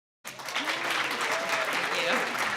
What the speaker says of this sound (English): you can start the applause now